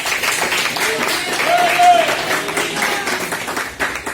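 Church congregation applauding during a sermon, a dense wash of hand claps blending with crowd noise and a voice underneath, steady and fairly loud throughout.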